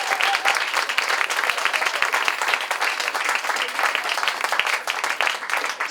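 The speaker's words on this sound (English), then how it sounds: "Let's give them all a round of applause" Applause from an audience at the opening of a college music center, steady dense clapping throughout, moderately loud and without talk.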